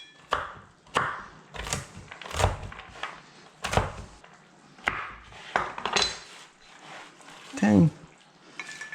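Walnuts crushed by hand on a kitchen board beside pepper and salt give a run of irregular, close crunching knocks and cracks, with soft handling noise between.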